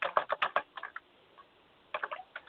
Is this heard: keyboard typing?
yes